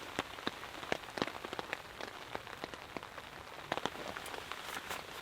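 Rain falls on a campsite, a steady soft hiss with scattered sharper drops tapping nearby surfaces, fairly quiet and with no voices.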